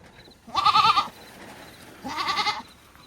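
Goats bleating on a homestead in Ghana, two loud, nasal cries about a second and a half apart, each wavering and close by, with quiet farmyard background between them.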